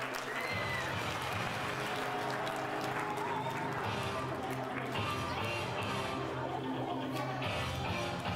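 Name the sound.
audience applause for athletes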